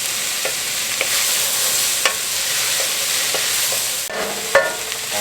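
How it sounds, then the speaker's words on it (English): Garlic sizzling loudly in a hot pan for chili, a constant frying hiss broken by a few sharp scrapes and knocks of a utensil stirring it around, close and with no talking. "I'm just going to go ahead and add this garlic."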